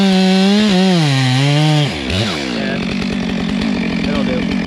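Freshly sharpened chainsaw revving loudly up close, its pitch sliding up and down before it bogs and settles into a rough, steady drone as it bites into wood.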